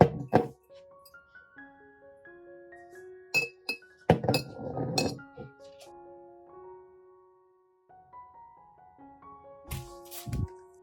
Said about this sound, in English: Arrange the eggs in the jar.